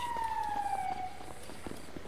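Wailing emergency siren in the GTA video game, a single descending tone sweeping down and fading as it recedes, moderately quiet with faint background noise.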